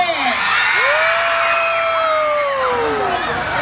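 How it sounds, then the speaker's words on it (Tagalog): Live crowd at a comedy show in Cabanatuan, Philippines, whooping and shouting back at the performer: a loud, sustained wave of cheering voices with rising and falling high yells, close and filling the space. "Gusto kong marinig yung sigawan ng mga pinagpalit ngayong gabi."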